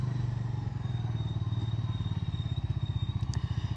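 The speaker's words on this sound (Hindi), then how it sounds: "थोड़ा सा ट्रैफिक में चलाकर देख लेता हूँ इस मोटरसाइकिल को" A Bajaj Dominar 350 motorcycle engine putters with a steady, pulsing throb and a faint whine, running continuously amid a low road rumble while riding in traffic.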